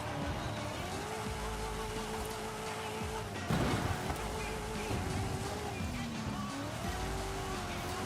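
A car with a positive displacement supercharger roars in Forza Horizon 5 on a winter track day, engine pitch rising and falling through gears with a sharp impact midway and a voice talking over it.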